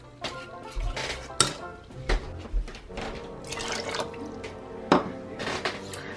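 A cup of water poured into a pan of cream, with a liquid trickle and splash over scattered clinks of dishes and pans, close and moderately loud.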